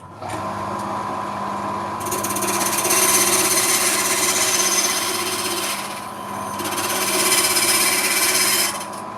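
A bandsaw cutting wood, its steady motor hum and blade noise swelling into two louder passes of cutting with a brief dip between, fairly close and with no talk.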